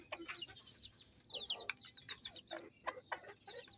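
Native country chickens and chicks in a coop cluck and peep in quick, scattered bursts, close but quiet, with no talking.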